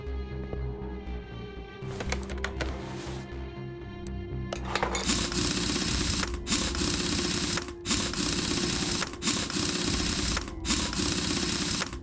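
A pneumatic impact wrench in Car Mechanic Simulator 2021 buzzes and rattles loudly in repeated bursts while fitting car wheels, each run broken by short pauses, over a steady mechanical whine from the game.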